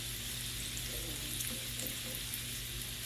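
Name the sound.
bacon frying in a pan on medium heat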